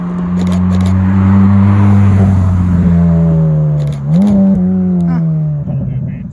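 A Ferrari F40 supercar rolls into a car meet in thick fog, its engine a loud, close, steady drone that dips briefly and then climbs again, with a few sharp mechanical clicks along the way.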